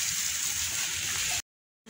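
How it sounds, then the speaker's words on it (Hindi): Heavy monsoon rain falling outdoors among trees and flooded ground: a dense, steady hiss of downpour for over a second, then an abrupt cut to silence before the rain returns faintly at the end. "बारिश बहुत तेज़ हो रही है"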